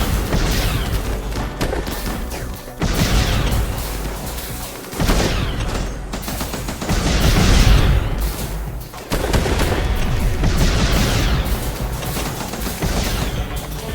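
Sustained bursts of gunfire in a RimWorld battle, dense rapid shots with booming impacts that come in waves separated by brief lulls, loud and close throughout.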